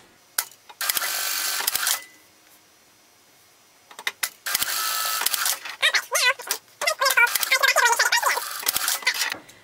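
A sewing machine stitches the short ends of a pocket flap in two brief, loud bursts of whirring separated by a pause, followed by a person speaking.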